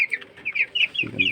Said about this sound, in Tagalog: Laki ng tandang, oh.